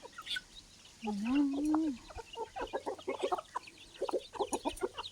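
Chickens cluck in rapid, uneven bursts while being fed at a rural garden house, with one drawn-out rising call early on and faint background sounds, heard fairly close but at low volume.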